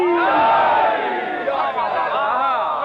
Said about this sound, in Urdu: علی کی غلامی کا اقرار کرتے ہوئے نعرے حیدری حیدری